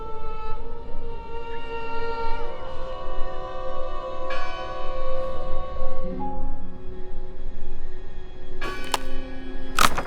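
A bell in the game Draugen rings with long, resonant tolling tones layered over a steady ambient drone, its sustained overtones lingering, then a sharper metallic strike lands near the end.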